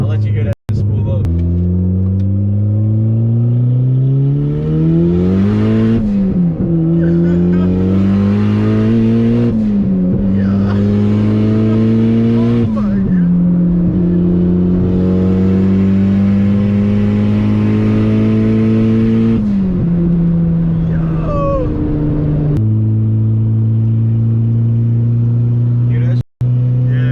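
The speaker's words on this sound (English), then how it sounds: "I'll let you hear that spool up." Big turbo Honda Civic revving through the gears, engine pitch climbing and dropping in repeated loud pulls with turbo spool and whine, heard from inside the car with the windows up, close and dominant throughout.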